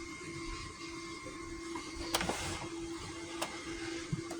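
A sewing machine stitching lines on a pinned gnome-design shirt, a steady whirring run with a few sharp clicks, moderately quiet and without talk.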